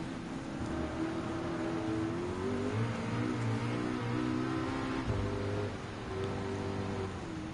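Racing car engines in Gran Turismo 7 drone through a Group 3 race against an NSX and a Corvette C7, their pitch rising and falling with gear changes, moderately loud and continuous.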